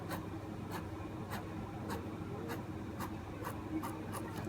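Colored pens drawing a graph on paper, heard as steady, evenly spaced scratchy strokes at close range, about eight quick marks in a row with no talking.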